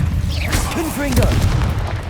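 In Hogwarts Legacy, a Confringo spell bursts in a fiery blast, a short booming pop with crackling debris amid chaotic combat noise and brief whooshing effects.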